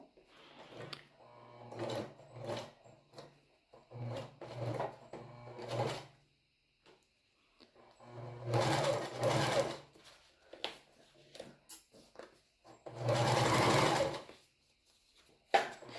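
A sewing machine stitches a swimsuit bra, running in several short bursts of rapid mechanical stitching separated by pauses, close and clear with no speech.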